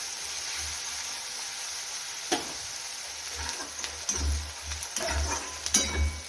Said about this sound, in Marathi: तर आपला कांदा मस्तपैकी असा फ्राय होत आलेला आहे